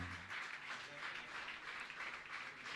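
An audience at a Jain religious ceremony in Aurangabad, Bihar applauds to honor a guest. The clapping is steady, dense and fairly distant for a few seconds, with no one speaking over it.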